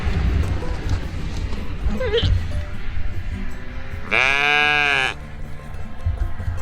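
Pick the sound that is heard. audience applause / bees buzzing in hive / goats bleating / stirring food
goats bleating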